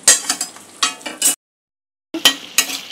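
Chicken being fried and sautéed in a pan for chicken jalfrezi, with bursts of stirring scrapes and clinks over a steady sizzle, a brief silent gap, then more stirring.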